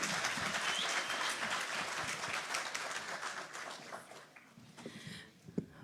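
An audience applauds at the presentation of Peru's national glacier and glacial lake inventory. Sustained crowd clapping is heard, dense at first and gradually thinning and fading toward the end, with a few isolated claps.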